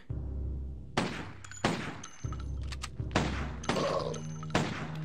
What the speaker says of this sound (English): Five shots as usual with this gun